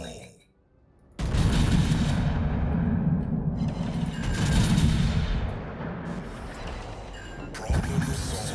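Kearsarge battleship in World of Warships firing its guns, a sudden heavy boom followed by a long rumbling roar of gunfire and explosions, loud and dense, with a second blast near the end.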